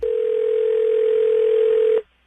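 A telephone dial tone plays as one steady, loud, unbroken tone for about two seconds, then cuts off abruptly into near silence.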